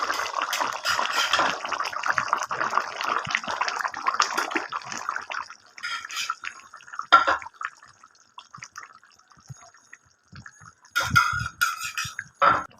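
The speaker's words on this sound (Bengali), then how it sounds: "দেখুন গাইস আমার ঝোলটা কি সুন্দর ফুটে উঠেছে" Curd-based aar fish curry gravy bubbling in a pan, giving a steady, fairly loud wet bubbling and popping that thins out midway and then returns in short bursts.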